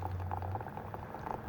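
Boiling hot water poured from a camp cook stove kettle for tea, a close, steady bubbling and liquid rush for a brief moment with no talk.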